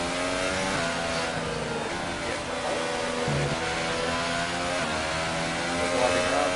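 Race cars in the F1 video game pulling away for the formation lap at Germany, a dense layered engine drone with rising revs and gear shifts, steady and continuous.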